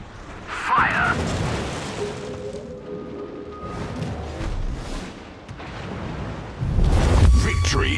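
Battleship guns firing in a naval video game, heavy booming salvos near the start and a louder rumbling blast near the end, with game voice callouts over them.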